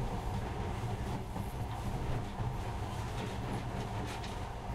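A monorail train from the video game Metro: Last Light runs with a steady, dense rumble that holds evenly throughout, with no pauses and no voices.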